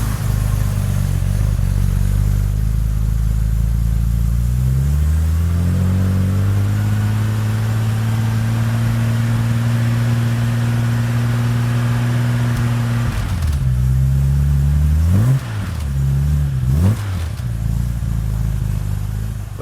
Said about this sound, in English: That is what a DB5 should sound like.